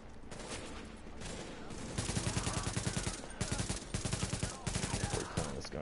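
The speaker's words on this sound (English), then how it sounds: "Gun is ridiculous." Video game gunfire, rapid bursts of automatic shots growing louder after a quieter start, repeated volleys in quick rhythm, with faint voices underneath.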